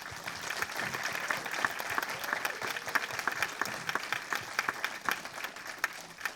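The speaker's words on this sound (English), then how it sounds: "can I please have a huge round of applause for all who have come here to make" Audience applause at a student council initiation ceremony, a steady dense wash of clapping from a crowd filling the whole stretch at even strength with no voices on top.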